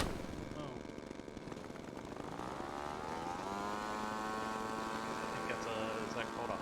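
Propeller warbird fighter with guns in the RealFlight flight simulator, a steady droning engine tone with rising harmonic pitch partway through, continuous and moderately loud under faint background hum.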